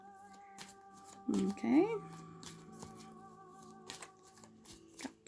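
Tarot cards are shuffled up close, with a soft riffling burst and quiet handling sounds, while a voice speaks briefly over low background hum.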